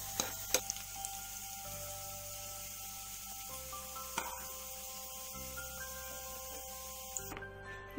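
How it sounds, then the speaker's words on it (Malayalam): Thinly sliced carrots fry in hot oil, giving a steady close sizzle with scattered small pops and faint clinks throughout, no voices. "ഇതിലേക്ക് നമുക്ക് ക്യാരറ്റ് കനം കുറച്ച് അരിഞ്ഞ് വെച്ച് കൊടുക്കാം"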